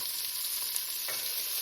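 Onions and green pepper sautéing in a pan over a medium flame for beef stew, a steady soft hiss of frying with a faint stir midway, no talking.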